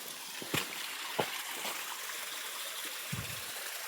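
A stream below a waterfall flows with a steady, faint, distant wash of water, broken by a few soft knocks.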